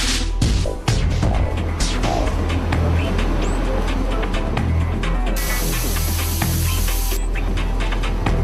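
Spray painting a Mercedes-Benz SLS AMG body: a continuous hissing spray gun sound runs throughout, mixed with clicks and workshop noise, and an abrupt brighter hiss in the middle.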